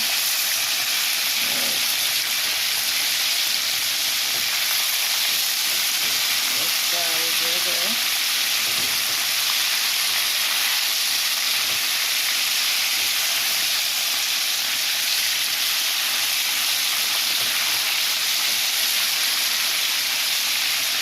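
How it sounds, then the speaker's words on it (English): Hot oil sizzles and hisses continuously as chicken fries, a steady bright crackle throughout, with a brief voice partway in. "I'm gonna brown the chicken in the oil"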